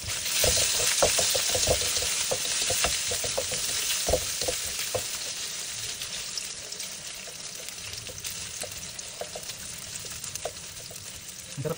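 Food sizzling and frying in a pan while being stirred, a steady hiss with scraping strokes throughout, loud and close, with no one talking.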